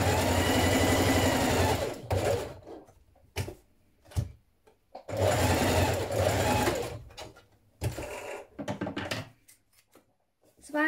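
A sewing machine stitches a 1 cm seam in a light fabric belt, running in two long bursts of rapid mechanical chatter separated by short pauses and clicks, close and clear.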